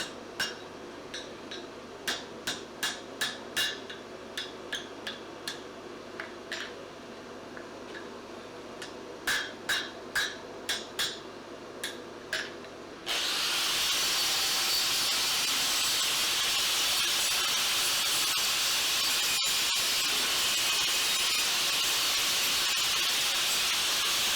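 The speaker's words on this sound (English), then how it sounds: "This is a power hammer." Rhythmic metallic pounding of a power hammer, a rapid series of sharp blows, then a loud steady rush of hissing air that drowns everything else.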